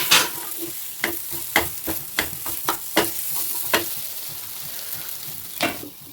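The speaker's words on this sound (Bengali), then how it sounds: "একটু ভালোভাবে তেলের উপরে নাড়িয়ে চাড়িয়ে নেবেন।" Stuffing for stuffed bitter gourd fries in hot oil under a steady sizzle, while a spatula stirs it in a series of sharp scraping clicks, some quick and some spaced out, up close with no talk.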